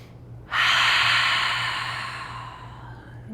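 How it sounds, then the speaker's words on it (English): A deep cleansing breath drawn slowly in through the nose, then sighed out through the mouth: a single close, airy exhale that starts abruptly and gradually tapers over a few seconds against quiet background hum. "Let's take a cleansing breath together, really nice and deep in through the nose, sigh it out through the mouth."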